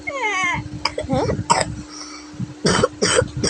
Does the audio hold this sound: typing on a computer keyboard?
no